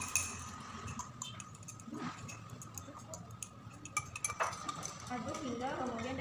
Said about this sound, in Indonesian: Aduk hingga homogen dan terlihat bening.